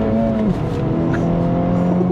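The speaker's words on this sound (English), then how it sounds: "I love the sound of this engine" A loud turbocharged engine of a 2024 Acura Integra Type S drones steadily at close range, its pitch shifting slightly as it pulls.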